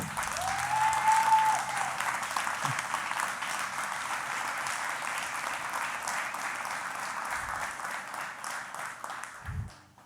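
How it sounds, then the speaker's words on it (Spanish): A congregation at a Spanish-language church service applauds loudly and steadily for God, with sustained dense clapping that fades at the very end and a brief tone near the start. "Dale un aplauso bien fuerte a Dios en esta tarde."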